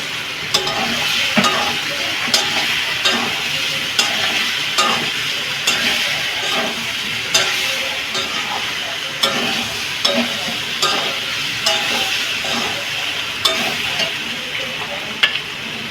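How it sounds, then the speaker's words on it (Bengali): Pointed gourd stirred into frying masala for a potato and pointed gourd curry: a constant close sizzle with regular light scrapes and taps from the spoon against the pan, carrying on without talk. "এইবার পটলগুলো দিয়ে নেড়ে দেবো।"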